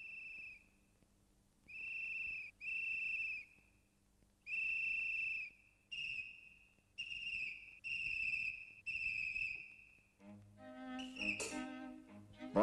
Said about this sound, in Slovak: A namiesto toho si musíme pískať.